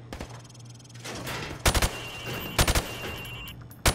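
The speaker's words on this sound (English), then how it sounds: "Now, shoot at the targets while firing from the hip." Rifle fired from the hip at practice targets on a range in Call of Duty: MWR, with three short, sharp bursts of loud gunfire spaced about a second apart over steady background hum.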